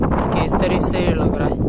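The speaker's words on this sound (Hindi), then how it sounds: "खतरनाक वाली हवा चल रही है" A strong wind roars during a dust storm outdoors, making steady, loud, broadband buffeting against the microphone as someone speaks over it.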